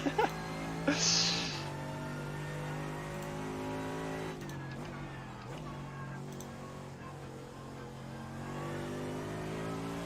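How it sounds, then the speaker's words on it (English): A race car in the iRacing video game, at the Bathurst 12 Hour endurance race, exits the pits with a steady, droning engine that holds its pitch and then shifts and rises as it pulls away, loud and close throughout. "There's a car exiting the pits."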